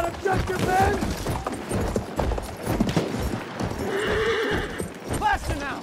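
In Battlefield 1, a horse neighs and whinnies amid galloping hoofbeats, loud and close, with a voice shouting over the commotion.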